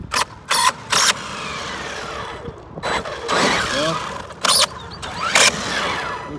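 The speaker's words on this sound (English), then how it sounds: "I got some kind of a gear problem. So there we are. The plastic spur gear is now toast." A stripped plastic spur gear in a Tekin Maxx RC car grinds and ratchets in about six short, loud, harsh bursts as the throttle is blipped, with a rising motor whine and rattling between them.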